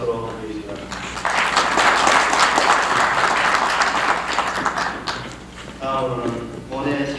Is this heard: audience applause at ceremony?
yes